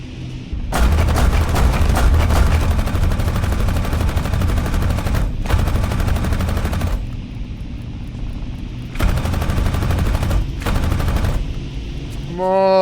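Bursts of rapid machine-gun fire from aircraft guns in the VR air-combat game Aces of Thunder, loud sustained volleys broken by short pauses, with a rising tonal engine or alarm sound at the end.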